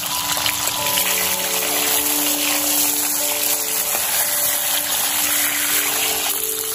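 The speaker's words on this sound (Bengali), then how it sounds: "পটলগুলো দুবারে ভাজবো, সেজন্য দেখুন আগে ছটা দিয়েছি আর ফ্লেমটাও হাই করে দিলাম।" Pointed gourd (potol) frying in oil over a high flame, a steady loud sizzle and hiss that runs through the whole stretch with no one talking.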